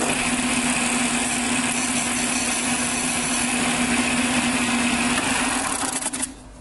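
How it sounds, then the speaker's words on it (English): Power grinder filing the lenses off LEDs, a loud continuous whirring buzz with a steady pitch that holds for about six seconds, then cuts off abruptly. "we're going to grind the lens off, just like we did for the tree lights."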